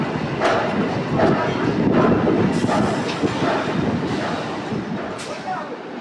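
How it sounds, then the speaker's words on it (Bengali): An EMU local train on the Howrah to Tarakeswar line pulls away and runs: a loud, steady rumble with wind buffeting the microphone and faint rail clacks, easing slightly toward the end. "ট্রেন ছেড়ে দিয়েছে বন্ধুরা"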